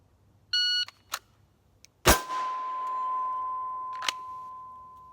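Pro shot timer beep during pistol draw practice: a short, clean electronic beep, then small clicks and a sharp, loud crack about a second and a half later that leaves a steady ringing tone.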